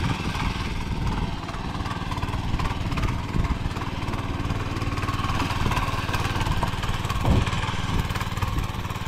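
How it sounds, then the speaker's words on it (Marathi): A tractor ploughs a muddy field, its engine giving a continuous droning rumble that stays close and steady throughout. A slight thump comes near the end, with no clear talking. "आज आपण ट्रॅक्टरने हे करतोय"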